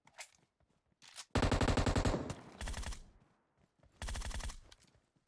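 Automatic gunfire in PUBG Mobile rattles out in loud, rapid bursts: one long sustained burst, a shorter one, then a final burst, separated by brief quiet gaps with small clicks.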